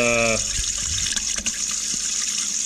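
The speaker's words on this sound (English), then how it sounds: "I'm just gonna get some water running through the filter" Water rushes steadily from a Samsung fridge dispenser through a newly replaced water filter with a bright hiss, following a brief electronic tone at the start, close and loud throughout.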